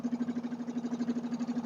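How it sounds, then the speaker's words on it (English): Racing lawnmower engine back at idle after revving, running lean so the RPM sags low; a quiet, steady, rapid putter of even firing pulses with no voices over it. "what happens when it comes back to idle, it goes really lean, drops away the RPM quite a lot"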